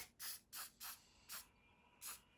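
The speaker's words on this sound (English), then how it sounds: "So I'm going to give it another little spray just on that little bush" Five short bursts of aerosol paint spray hiss onto a model railway scenery bush, quick and close, separated by brief pauses in an otherwise quiet space.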